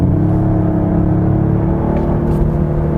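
Genesis GV80 3.5T twin-turbo V6 accelerating hard with active engine sound set to maximum, a thick, steady droning rumble heard from inside the cabin, loud and continuous.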